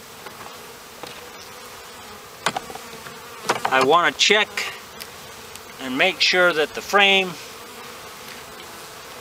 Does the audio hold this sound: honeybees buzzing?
yes